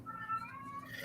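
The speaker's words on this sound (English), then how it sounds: "you might hear a cat in the background." A house cat meows faintly in the background at home, a short, thin, wavering cry behind a quiet room.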